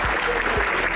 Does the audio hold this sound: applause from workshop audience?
yes